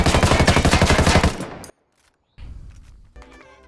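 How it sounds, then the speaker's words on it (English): A P416 assault rifle from Ghost Recon Wildlands fires a rapid, loud burst of closely spaced shots. The burst cuts off into a brief silence, and then quieter mechanical clatter and a faint echo follow. "here's the weapon recoil burst firing with compensation"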